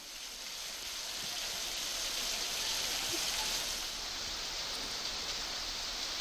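Heavy downpour in a city street, a dense, steady wash of rain with no breaks, heard moderately close as a continuous hiss without voices.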